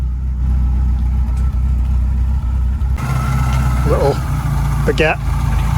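A Renault Clio 172 engine idles with an uneven, choppy low rumble, steady and close, while voices talk over it and a brief whistle-like squeak rises near the end.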